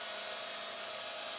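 A vibratory concrete screed runs steadily while leveling a freshly poured colored concrete floor, giving a loud, continuous broadband motor drone with a steady hum and no breaks.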